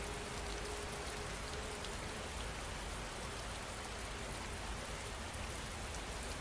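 Steady rain falling, a constant soft hiss of drops on surfaces with an even, unbroken texture throughout, no voices.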